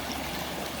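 A creek flows around a bend beside a road, giving a steady, close rush and trickle of running water with no talk over it.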